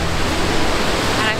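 A waterfall at Lula Lake near Chattanooga, Tennessee, roars close by with dense, unbroken rushing water and no distinct individual sounds.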